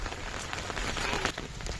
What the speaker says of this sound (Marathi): मस्त पावसाला सुरुवात झाली